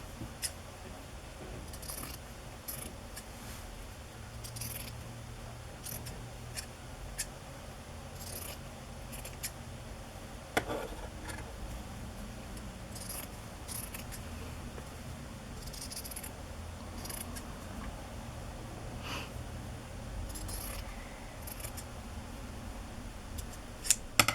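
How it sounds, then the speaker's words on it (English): Scissors snipping squares out of paper for a Christmas journal, quiet scattered cuts and rustles close by at an uneven pace, with no voices. "I'm going to cut out a couple of these squares."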